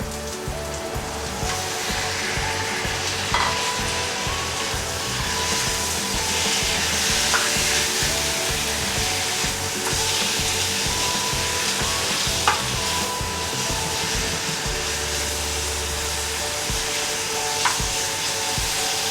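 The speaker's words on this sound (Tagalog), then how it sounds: "Prito natin to hanggang medyo maging brown na yung meat." Pork belly fries in a pan, giving a steady dense sizzle with crackling pops and occasional stirring scrapes throughout, close and fairly loud with no talking.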